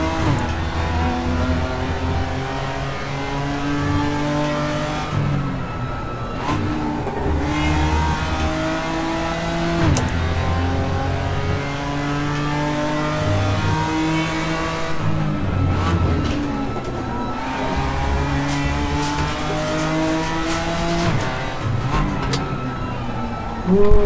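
Ferrari race car in RaceRoom at the Indy 500 setup, engine revving hard and accelerating through repeated upshifts, a loud continuous high-pitched whine rising and dropping with each gear change.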